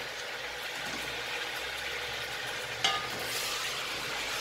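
Beef and small edible bones fry in a pot for a Cameroonian ndolè dish, giving a faint, even sizzle that runs throughout with one brief clink partway through.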